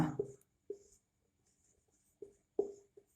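Chalk or pen writing a definition on a board, heard as a few short, separate tapping strokes with quiet gaps between them, close and soft.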